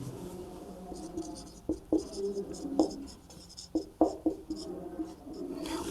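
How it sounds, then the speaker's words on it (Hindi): Pen or marker writing a maths formula during a Class 12 maths lesson, a run of soft scratchy strokes in irregular bursts, close and moderately loud, with faint speech-like murmur in the background. "मैंने यहां पर x के रूप में सुतुल्य संबंध का सूत्र लिख दिया है"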